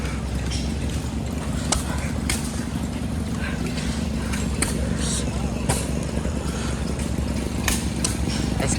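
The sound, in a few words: big hit-and-miss gas engine running at an engine show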